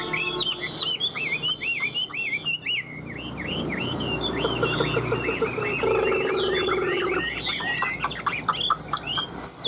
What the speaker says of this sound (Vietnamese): con chim này là con chim chân vàng mỏ vàng các bác nhá, lông vàng nhá, mắt xanh lét luôn